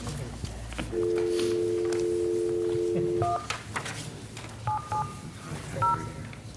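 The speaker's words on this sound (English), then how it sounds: "So I need to call Jake to get his voice over the phone line here" Telephone dialing tones on a phone line in a council meeting room: a long steady tone, then short paired DTMF beeps in separate bursts, fairly clear over faint room noise.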